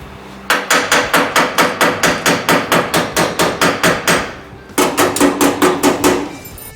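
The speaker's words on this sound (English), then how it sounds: "Hold the panel under tension and do the hammering." Rapid, regular hammer blows on a car body panel held under tension, a loud ringing series of strikes that pauses briefly and then resumes at the same steady pace.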